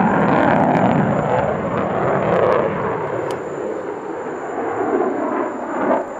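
An F-16E fighter jet flies at the Dubai Airshow, its broad, loud engine roar holding steady throughout with slight swells as it passes.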